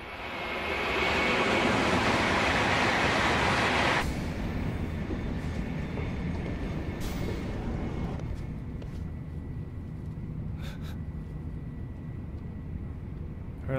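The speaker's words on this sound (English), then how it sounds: "Morning train." A train rolls along in the video game Yakuza Kiwami 2, a loud, steady rumble that drops to a quieter, continuous hum partway through, with no talk.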